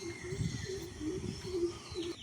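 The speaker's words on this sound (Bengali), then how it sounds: "তখন পাখিদের ডাক শোনা যায়" Birds coo softly in a repeating rhythm outdoors, with a few faint chirps in the background and no talking.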